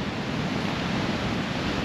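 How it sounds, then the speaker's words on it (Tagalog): Strong ocean waves at Bucana, heard as a dense, continuous roar of surf with a wind-like hiss and no distinct breaks, loud and close throughout without any voices. "Ay, grabe yung alon!"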